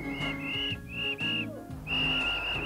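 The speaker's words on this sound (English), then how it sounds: "They heard the whistle!" A sustained high whistle sounds in several long blasts with short gaps, over music and background voices in a radio drama about a great train robbery.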